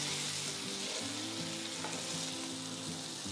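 Garlic, green chili, curry leaves and chopped tomato fry in hot oil in a pan, giving a steady, loud, close sizzle with low crackling throughout and no talking.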